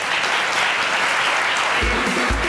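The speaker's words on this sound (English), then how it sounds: "Can we please have a round of applause for these panelists?" Audience at a conference on financing smallholder farmers applauds the panelists, sustained dense clapping from many hands with a couple of low thumps near the end.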